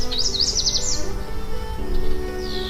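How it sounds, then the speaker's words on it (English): Birds sing in bright, rapid trilling chirps near the start, with a few more calls later over a loud, steady background of music. "Even the birds can feel it. Listen to them sing."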